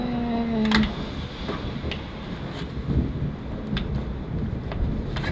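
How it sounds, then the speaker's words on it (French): A thunderstorm with a low rolling rumble and steady rain hiss, fairly loud and continuous, with a brief tone near the start and no talk. "De l'orage."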